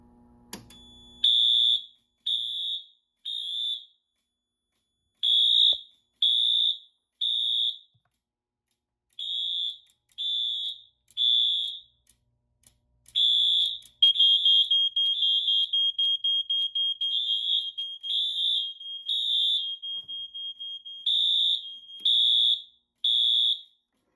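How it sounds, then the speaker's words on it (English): Smoke detector alarm sounding through a Notifier AFP-400 fire alarm panel: loud repeated high beeps in bursts of three with short pauses, then a faster steady run of pulses over a thin continuous tone before the three-beep pattern returns. "Silenced again, and the detector is alarmed now."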